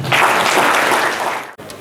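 Conference audience applause in a hall, a short burst of dense clapping that stops abruptly near the end.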